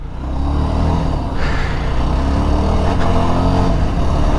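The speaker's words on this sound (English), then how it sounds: "The engine is very punchy, very responsive." A Yezdi Scrambler motorcycle engine accelerates hard, a loud, steady, throaty drone that builds continuously and stays close throughout with no talk over it.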